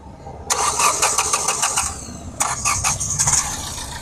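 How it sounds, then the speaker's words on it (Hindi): A Hyundai Verna with an injector noise problem cranks and starts twice, each attempt a rapid burst of starter clatter and rough catching, then settles into a loud, uneven idle. "ये गाड़ी स्टार्ट हो गई"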